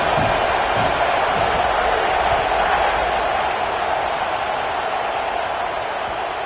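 Steady, loud stadium crowd roar in College Football 27 during a Penn State vs Auburn game, a dense sustained wash of cheering voices with no distinct breaks.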